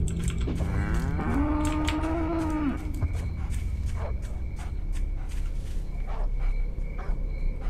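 A cow mooing once, long and rising, in the farm video game Edge of Hearts, followed by soft clicking and faint background sounds.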